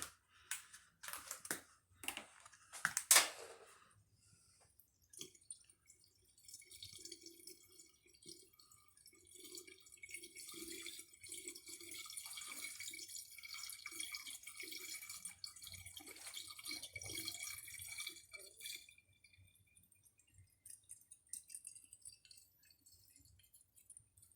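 Water is poured into the coolant system of a water-to-air intercooler on an AWD Honda Civic EM2, giving a faint, close trickle that runs for several seconds after a few sharp clicks and taps.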